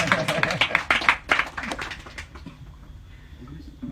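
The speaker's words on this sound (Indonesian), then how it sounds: "Jangan tepuk tangan kecuali pengen." A small gathering at a padepokan in Bondowoso claps in a brief burst of distinct, close hand claps that thin out and fade into quiet room tone after about two seconds.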